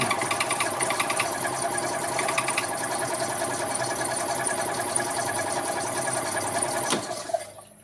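A 2001 EZGO TXT gas golf cart engine runs at a steady, buzzing idle nearby, a continuous mechanical drone with a rapid ticking texture. It cuts off near the end, leaving a brief quiet tail.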